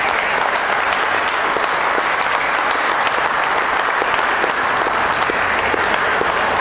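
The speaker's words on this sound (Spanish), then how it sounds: "un fuerte aplauso para los fuleros que confiaron" An audience at a book presentation at the Santa Fe book fair breaks into loud, sustained applause, dense clapping steady throughout without pause.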